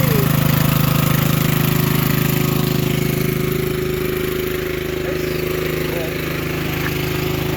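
The engine of a lift machine used for hanging trusses runs loud and steady at close range, with its muffler and guard in place. It keeps a constant droning hum with a rough, rattly edge throughout.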